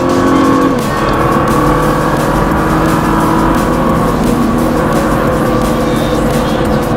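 A race car engine roars steadily at high revs on a track, loud and continuous with a sustained droning whine throughout.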